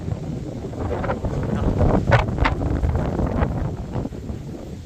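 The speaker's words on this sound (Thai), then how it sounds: "มื้อนี้ลมโคตรลมแห้งเลยพี่น้องเนาะ" Strong dry wind blows steadily outdoors in the countryside near rice fields, roaring and buffeting the microphone with rough gusts throughout and no voices.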